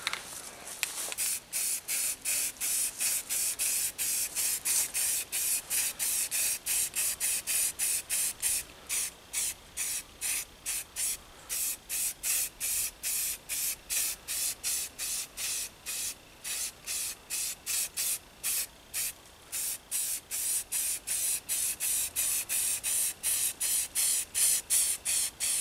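Tan camouflage sand spray paint hisses onto a rubber dummy target in quick, evenly spaced bursts, a close, continuous rhythmic series of short sprays that runs throughout.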